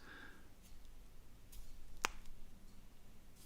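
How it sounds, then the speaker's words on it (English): A single sharp knuckle crack snaps very close to the microphone, one brief isolated click against a quiet room background with no talking. "That was the sound of my knuckle cracking too close to the microphone."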